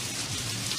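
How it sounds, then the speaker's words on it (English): Rain pours indoors inside a store in a steady, faint, hissing wash with no voices over it. "It's raining inside the store."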